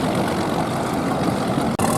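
Loud, steady roar of a racing powerboat engine running close by during the Cowes Torquay Cowes offshore race, with a brief dip near the end.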